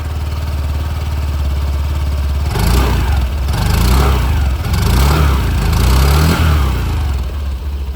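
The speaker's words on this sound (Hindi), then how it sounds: "अब दोस्तों मैं आप लोगों को यहाँ पर जो एक्टिवा 125 है उसकी भी जो आवाज़ है वो भी मैं आप लोगों को यहाँ पर सुना दूँ" Close by, a Honda Activa 125 scooter engine runs with a steady low hum, and the sound grows rougher and louder for a few seconds midway as the throttle rises and falls.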